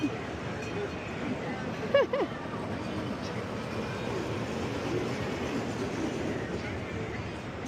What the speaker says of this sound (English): Here's the little Snoopy train.